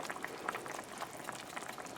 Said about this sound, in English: keep the lid off and let it bubble like that